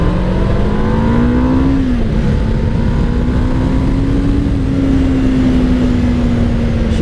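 Kawasaki Ninja EX500 (500R) sport motorcycle engine running on the road in cold weather, a steady droning note that rises and dips slightly with throttle, loud and close under heavy wind noise.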